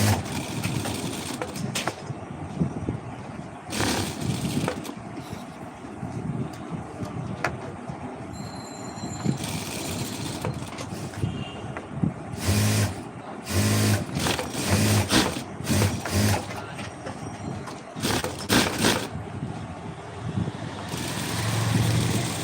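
A sewing machine stitches a white semi shirt during tailoring, with loud, close rattling bursts that start and stop irregularly, separated by brief pauses and no speech.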